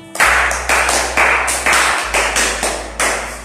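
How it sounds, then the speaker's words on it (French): A short burst of steady clapping, regular and fairly loud, like a small group applauding in rhythm for a few seconds. "applaudissez pour nous"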